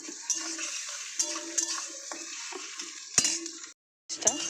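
Chicken masala stirred and fried in a pan, a soft continuous sizzle broken by repeated scrapes and clinks of a spatula against the pan, close and fairly quiet, with a brief pause near the end.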